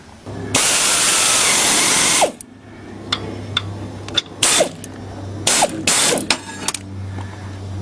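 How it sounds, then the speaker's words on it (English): A crankshaft bolt being fastened on a blown lawn tractor engine during reassembly: a loud burst of power-tool or ratcheting whir for about two seconds, then a run of short metallic ratchet clicks and brief zips, close by with no talking. "Now just to put the crankshaft bolt on."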